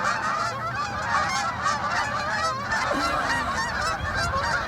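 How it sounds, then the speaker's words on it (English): Geese honk repeatedly as a flock flies past outdoors, a steady chorus of overlapping calls at moderate distance over faint background noise, with no talking. "We'll pause for geese."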